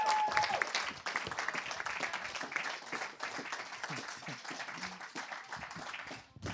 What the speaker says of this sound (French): On applaudit Monsieur Farid Ismail